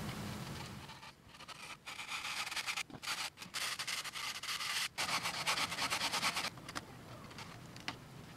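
A cloud camera casing, masked with Kapton tape, is sanded by hand in repeated rasping strokes with short pauses between them, close and steady.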